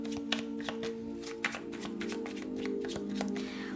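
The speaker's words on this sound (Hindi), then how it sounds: "थोड़ी सी और कार्ड्स लेंगे आपके लिए" Tarot cards shuffled by hand up close, a run of quick crisp riffling bursts and soft taps in an uneven rhythm, with no talking.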